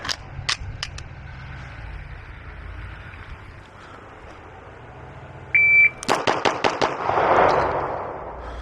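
Rapid string of gunshots from a Beretta Samurai Edge pistol on a range, a beep followed by about six sharp close reports in quick succession with brief ringing decay, preceded by a couple of earlier isolated cracks.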